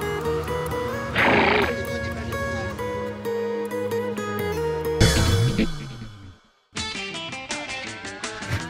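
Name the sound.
donkey braying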